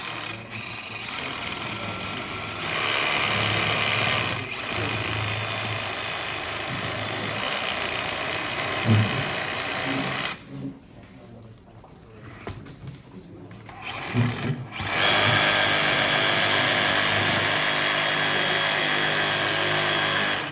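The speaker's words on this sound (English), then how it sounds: "using the sawzall, you got to be careful because you don't want to go too close to the pot; it'll chip the pot." A reciprocating saw cuts through the roots of a potted bonsai during a club repotting workshop, buzzing steadily in long bursts with a brief drop midway before resuming loudly.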